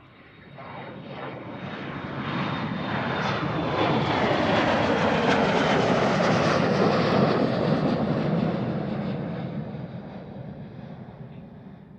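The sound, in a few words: Embraer E175 jet aircraft at Amsterdam Schiphol Airport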